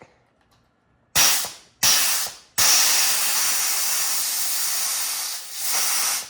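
An air compressor charged to around 150 psi blasts high-pressure mist in two short hissing bursts, then a long sustained loud spray hiss that dips briefly before continuing, close and unaccompanied by voices.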